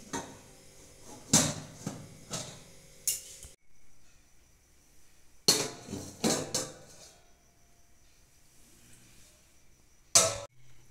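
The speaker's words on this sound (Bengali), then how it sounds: "আবার আমি ঢাকাটা দিয়ে দিচ্ছি।" A lid is set over a cake pan while a chocolate cake bakes, making several close metallic clinks and knocks in short clusters with near silence between them.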